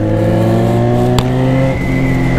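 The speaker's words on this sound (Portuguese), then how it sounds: "é muito escândalo que essa moto faz, mano, é muito." Honda CB1000 motorcycle engine revving hard up close, a loud sustained roar with steady harmonic drone, a sharp crack near the middle, then pitch shifting as the revs change, no talking over it.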